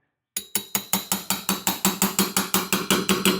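Metal tapping on a screwdriver wedged against the flywheel of a Stihl MS390 chainsaw, about sixteen sharp ringing hits in an even quick rhythm, close and alone.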